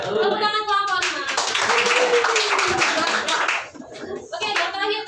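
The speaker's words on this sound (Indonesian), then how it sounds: "Tepuk tangan kelompok 5." Students in a class-9 lesson clap for a presenting group, a rhythmic round of hand-clapping mixed with children's voices and chatter in a classroom.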